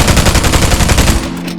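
Rapid automatic gunfire fired from the hip in the shooter game Spectre Divide, a loud, close, unbroken burst of evenly spaced shots that cuts off abruptly near the end.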